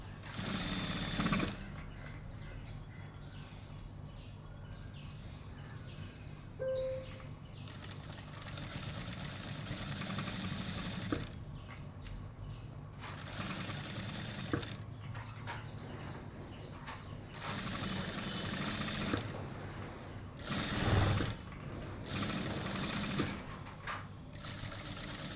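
A sewing machine runs a head stitch along fabric piping in a quiet room, its motor humming and stitching in several bursts separated by brief pauses.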